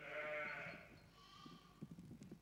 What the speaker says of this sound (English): sheep keep warm within the ruins